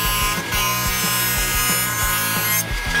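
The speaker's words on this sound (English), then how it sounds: "using a sacrificial fence with the blade buried into the fence, I put a ½ inch by ½ inch rabbet in each of my side pieces" Table saw blade buried in a sacrificial fence cuts a half-inch by half-inch rabbet in wooden drawer side pieces, giving a steady loud rasping whine with rhythmic pulses repeating about every half second.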